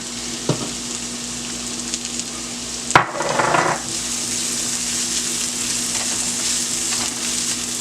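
Chopped onions hit a hot pan of garlic for homemade barbecue sauce. A sharp crackling burst flares as they land, then settles into a steady, close sizzle of sautéing with no talking.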